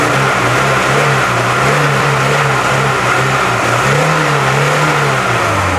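A 30-year-old Lada Niva engine rumbles loudly up close, its pitch rising and falling in repeated revs over a steady throaty drone.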